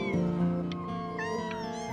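Several cats meow in the video game Before Your Eyes, with overlapping drawn-out cries and harmonics that sound close and steady, and nobody speaking over them.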